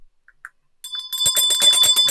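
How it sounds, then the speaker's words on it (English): Sleigh bells jingle in a quick, rapid rhythm after a few faint isolated chimes, growing bright and steady toward the end. "Sleigh bells."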